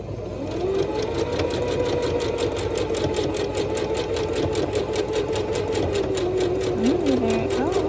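Sewing machine stitching a fabric ruffle for a small pouch, a fast continuous needle rhythm close by with a voice speaking over it.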